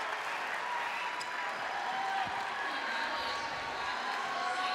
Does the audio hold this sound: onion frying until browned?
no